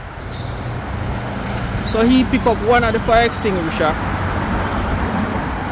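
Steady main-road traffic rumble fills the background, with someone talking loudly over the noise in the middle.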